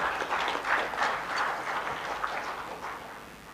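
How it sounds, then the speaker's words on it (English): A conference audience claps for a keynote speaker, a moderate burst of applause that swells early and gradually thins out over a few seconds. "Big round of applause, ladies and gentlemen."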